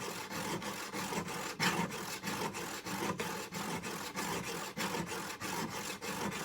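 A woodworking chisel is sharpened on 200 grit abrasive in a shop: a rhythmic series of rasping strokes, about two per second, close and moderately loud, with no voices.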